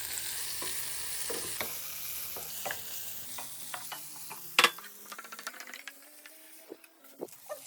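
Tomatoes with turmeric cooking in a pan make a soft frying hiss that fades, while a spoon scrapes and taps against the metal in scattered clicks.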